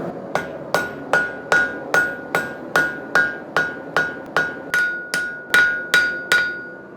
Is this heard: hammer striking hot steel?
yes